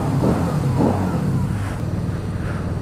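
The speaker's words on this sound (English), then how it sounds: "Rev bomb." A Harley-Davidson V-Rod motorcycle engine revs outside a Harley-Davidson dealership, two quick throttle blips over a loud, rumbling idle, close by.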